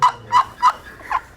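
A wooden turkey box call slid back and forth produces four crisp, evenly spaced yelps, loud and close with no talking.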